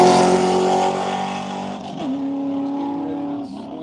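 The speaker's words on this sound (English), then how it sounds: "It sounds like a lot of tortured tires, but that is just the turbo" Race car at a Roebling Road HOD track event, its loud turbocharger whining and shrieking like tortured tires, a sustained harsh tone that dips and shifts pitch midway, close and continuous with no talking.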